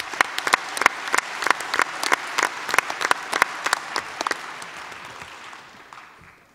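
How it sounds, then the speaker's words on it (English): Audience applause at a mayoral debate in Chilliwack, with crisp, dense clapping that fades out toward the end. "give yourselves a round of applause"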